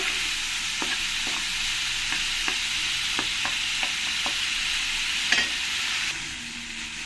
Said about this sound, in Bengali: এবার চিংড়ি মাছগুলোকে ভালো করে উল্টে পাল্টে আমি একটু ভেজে নেব